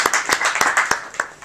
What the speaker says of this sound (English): let's give a round of applause for being our brave first victim.